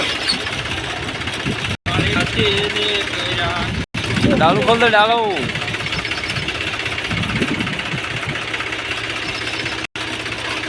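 A tractor engine runs steadily with a low knocking throb, briefly cut by gaps, while someone speaks over it, in a village.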